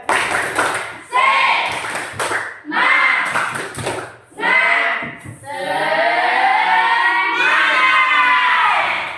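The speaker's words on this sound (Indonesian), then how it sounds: "Coba, 1, 2, 3, tepuk semangat." Schoolchildren in a classroom shout and clap a rhythmic spirit clap, loud bursts of voices and hand claps in short groups, ending in a sustained shared cheer.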